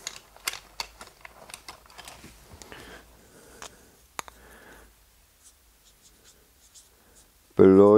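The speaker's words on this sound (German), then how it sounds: "das schreibe ich schon gerade mal drauf" A marker writes a label onto a cable roll on a building site, quick close squeaky strokes and taps over several seconds that fade toward the end, followed by a brief loud burst.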